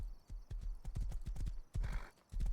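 A horse in the video game Rust trots over hilly forest ground, its hooves clip-clopping in quick, regular beats, pausing briefly for a breathy whinny before the hoofbeats resume, close and clear.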